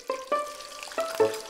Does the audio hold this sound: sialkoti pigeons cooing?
no